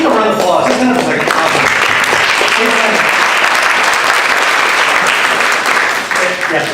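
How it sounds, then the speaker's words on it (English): A church congregation applauding: loud, close clapping from many hands that keeps going throughout, with some voices heard beneath it at the start. "Let's give a round of applause."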